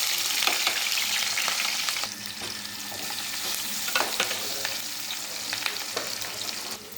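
Cumin seeds, mustard seeds and green chilies frying in hot oil in a home kitchen, a continuous sizzle with scattered sharp pops and crackles as the seeds spit.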